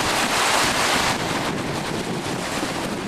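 Wind-driven whitecap waves churn across an open lake in strong wind, a steady, loud broadband rush with gusty buffeting against the microphone and no voices.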